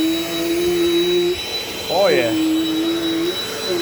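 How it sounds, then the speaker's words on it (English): A Dirt Devil Dynamite vacuum cleaner runs with a steady whine through the whole stretch, while someone briefly speaks over it near the middle. "Oh yeah, I'm keeping this vacuum here."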